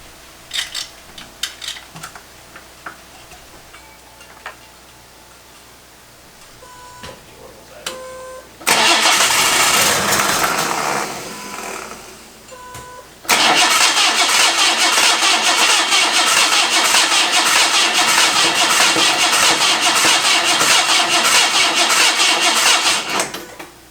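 A forgotten Datsun 260Z that has sat for 16 years cranks on its starter in two long bursts, a loud steady churning whir that fails to catch, with quieter clicks and movement beforehand and talk at the start.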